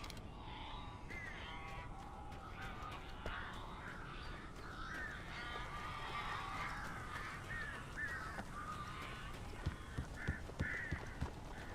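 Crows caw in Alan Wake Remastered: harsh, repeated bird calls scatter across a steady creaking, rustling game ambience, with a few sharper knocks near the end and no talk.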